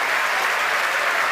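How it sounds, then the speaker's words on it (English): A crowd at SpaceX headquarters in Hawthorne applauds and cheers loudly after a Falcon 9 Block 5 first stage lands on a drone ship, a dense, continuous roar of clapping. "The crowd's going nuts here at SpaceX headquarters in Hawthorne"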